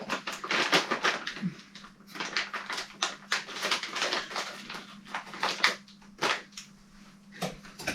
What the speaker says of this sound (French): on va prendre une petite paire de ciseaux pour ouvrir ça